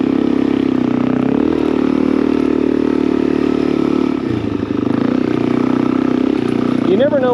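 Motorcycle engine running steadily near some gentle cattle, a loud continuous drone that shifts pitch as the bike changes speed, ending with a brief rising whine.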